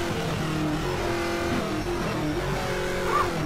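Racing car engine in the video game Shift 2: Unleashed, a steady loud revving drone with small pitch shifts as it accelerates, continuous and alone without talk.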